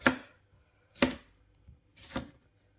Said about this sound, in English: give them a wash first, and again just chop these up